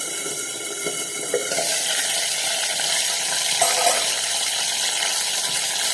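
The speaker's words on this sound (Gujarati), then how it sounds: "આપણે અડધી નાની વાટકી જેટલું પાણી રેડવાનું છે" A sharp burst of sizzling as a small amount of water hits a hot pan holding leftover roti pieces being cooked into a snack, settling into a steady loud hiss.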